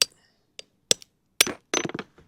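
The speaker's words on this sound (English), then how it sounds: "Hammer" Hammer taps on parts during repair work on an R53 Mini Cooper S: a few sharp, close metallic knocks spaced apart, then a quick cluster of lighter strikes near the end, with quiet in between.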